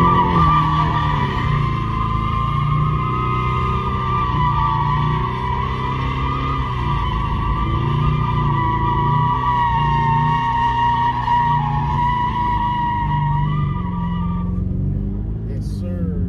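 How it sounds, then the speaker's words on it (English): A 2024 Ford Mustang Convertible with an automatic transmission does donuts with the top down, a loud sustained engine roar with long tire squeal wavering throughout. "Let's do a few donuts with the top down."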